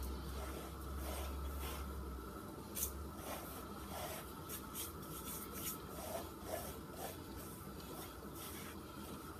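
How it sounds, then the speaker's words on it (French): Dry couscous grains are rubbed between two hands, making a soft, continuous gritty rasping that swells and fades with each pass, close and quiet with no talking. "passer à peu près toutes les petites graines de couscous entre mes 2 mains"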